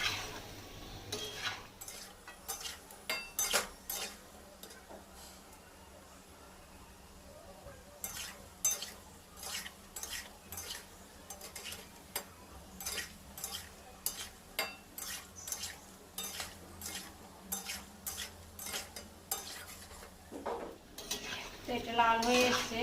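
Bengali palm fruit fritters (taler bora) fry in a pan while a metal spatula repeatedly scrapes and clinks against it, sharp irregular knocks over a soft sizzle, with a quieter pause before the stirring resumes and grows busier near the end.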